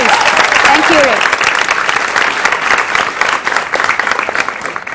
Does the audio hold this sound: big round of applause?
yes